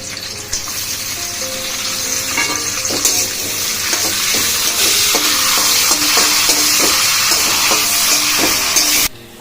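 Cashews and raisins fry in hot oil alongside whole spices (bay leaf, cinnamon, cardamom, cloves) for basanti pulao, giving a steady, close, loud sizzle with light stirring scrapes throughout, ending abruptly.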